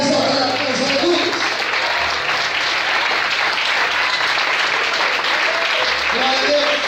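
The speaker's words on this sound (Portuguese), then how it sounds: "Todos podem aplaudir e exaltar a Deus." A church congregation claps in sustained, dense applause that fills the room, with a voice speaking over it near the start and near the end.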